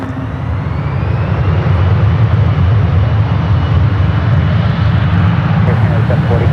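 An airliner lines up on runway 1 left at San Francisco airport, its engines producing a loud, steady low roar that swells slightly after the first second and holds constant, with radio talk over it.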